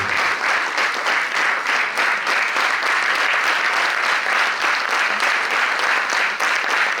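Theatre audience applauding performers after a play about Sant Kabir, a steady, dense wash of many hands clapping that fills the hall without a break.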